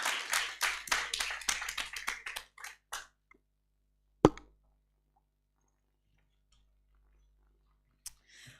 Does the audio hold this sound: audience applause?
yes